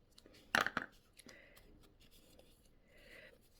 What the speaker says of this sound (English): I think I will just give it a little short cut here.